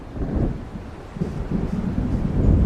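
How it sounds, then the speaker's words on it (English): An approaching storm in the video game Alan Wake, rumbling thunder and gusting wind over a low, steady roar that swells toward the end, loud and with no talking. "It seems there's a storm coming."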